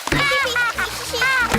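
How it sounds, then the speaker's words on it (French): A cartoon child kicks their legs in a pool while holding a kickboard. Loud splashing and sloshing water churns steadily under a voice. "mais n'éclabousse pas autant"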